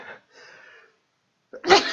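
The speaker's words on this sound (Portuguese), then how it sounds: "que vontade de espirrar" A single loud, close sneeze bursts out at the end after a faint breathy build-up and a short silence.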